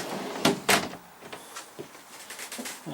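A storage door beneath an RV daybed swings shut with two close, solid knocks near the start, followed by a few softer taps and light rattles as it settles.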